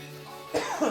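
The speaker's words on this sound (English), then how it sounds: "Bit of a cough." A single short cough, fairly close, following a moment of quiet background hum, during a World of Warcraft: Battle for Azeroth livestream.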